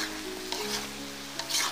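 A vegetable bhaji of jackfruit seeds, broad beans, cabbage and potato sizzles in a pan after a splash of water, a loud steady fry with a few stirring scrapes.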